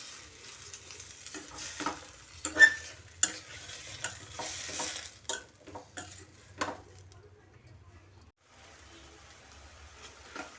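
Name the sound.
stirring tomato pieces with mint and coriander cooking in pan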